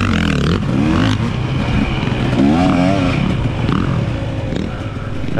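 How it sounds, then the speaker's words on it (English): A dirt bike rips loudly and up close through a sand pit. Its engine snarls and revs throughout, with clattering and roost noise mixed in. "he just kind of rips by here, roosts me again"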